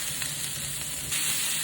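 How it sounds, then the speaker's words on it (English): Vegetables sizzling in a pan still coated with fat from seared beef cheeks, a steady close crackle and hiss with a brief stir, no voices. "Now in the same pan, not washing it out, add your vegetables"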